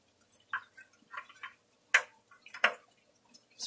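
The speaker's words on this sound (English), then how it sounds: "You can hear in these, you can hear the water run" Water runs through a vertical strawberry tower garden, heard as faint, scattered drips and small splashes at irregular intervals in a quiet setting.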